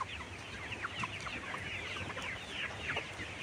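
Chickens two days after beak trimming, weak and drowsy, cluck softly in repeated short calls from a small flock, close by and without talk.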